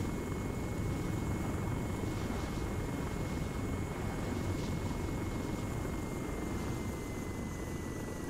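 A helicopter hovering low so troops can rappel down in the game Arma 3, a loud, continuous rotor and engine roar with a steady whine that never lets up, no voices.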